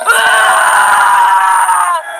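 A man screams in a horror story, one long loud sustained cry that holds steady for about two seconds before cutting off, alone without other talk.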